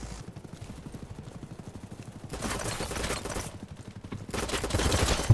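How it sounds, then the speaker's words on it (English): Gunfire fills a BattleBit Remastered match: rapid automatic bursts run steadily, then grow louder and denser in sustained volleys, heard up close without talking. "Someone's shooting at me, it sounds like."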